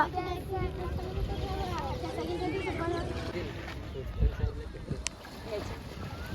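A boat travels on open water during an outing at Vasai, its steady broadband wash and engine rumble running underneath close, continuous conversation from people on board.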